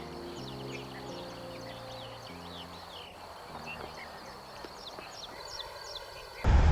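Faint, scattered bird chirps and calls from several birds at dawn on a jungle trek near Rajgad, over a low, steady droning background.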